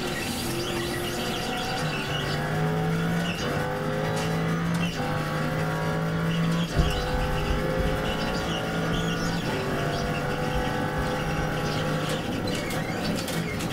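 A race car laps Sebring in the iRacing sim, its engine droning loud and steady with rising and falling revs through gear changes, a brief tire squeal or bump midway, no talking.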